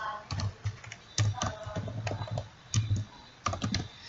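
Fingers typing on a computer keyboard while filling in an online form, with quick bursts of clicking keystrokes separated by brief pauses, close and fairly clear.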